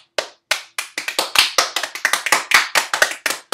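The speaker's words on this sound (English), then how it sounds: "everyone clap for her" A small group claps their hands for a guest in a staged interview, a quick, uneven run of sharp, close, dry claps with short gaps, heard on its own without talk.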